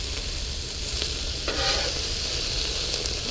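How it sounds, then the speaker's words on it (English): Meat for Philly cheesesteaks sears in a hot pan, giving a steady, close, loud sizzle with occasional stirring and tossing and a brief swell midway, with no talking. "Just want to get that nice sear going."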